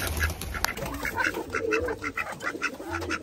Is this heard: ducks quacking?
yes